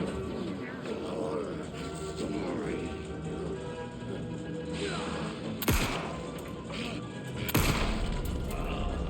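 Two sharp pistol shots crack out a couple of seconds apart in Alan Wake 2, standing out over a murky ambient backdrop while a person talks.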